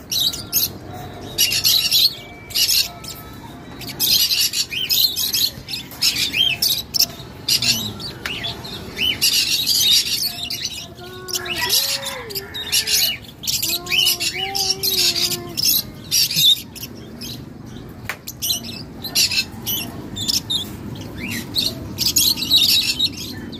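Many caged birds chirping and squawking together in a dense, continuous chorus, close by, with a few louder calls rising above the chatter.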